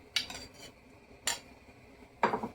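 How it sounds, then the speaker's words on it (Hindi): Chicken meat and bones being mixed into soup in a pot, three brief scraping clatters of a spoon against the pot, close and separated by pauses. "और इनको अच्छी तरह से हम मिक्स करते हैं।"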